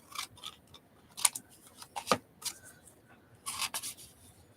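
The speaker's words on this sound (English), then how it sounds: "I'm going to go ahead and cut that white border off" Scissors snipping the white border off a photo for a scrapbook cover, a series of quick, close, crisp cuts and rasps spread irregularly across the moment, fairly soft overall.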